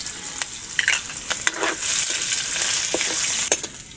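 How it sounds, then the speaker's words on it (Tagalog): Onion and garlic sauté in hot cooking oil with a steady, loud sizzle and scattered crackles and stirring clicks throughout, close up and with no voices. "Magigisa na po tayo, luluwa na tayo ng kanyang sauce. Sabay lang po natin yung sibuyas at bawang."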